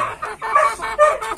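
Chickens raised in a rural Philippine province cluck close by in a short run of bright, choppy calls, loud with no talking.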